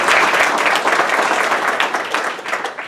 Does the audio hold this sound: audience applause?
yes